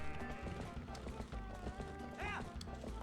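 Herd of goats running in The Legend of Zelda: Twilight Princess, a busy patter of hooves with bleats mixed in over background music, fairly quiet and continuous.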